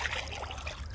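Water trickles steadily along a clear canal in a sunny forest, a soft continuous burble heard close with no talking.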